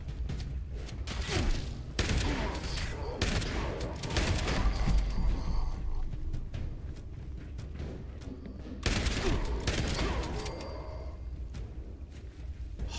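Heavy gunfire from the Fallout 76 video game, with dense, continuous bursts of shots and booms that keep going through the whole stretch and surge again near the end.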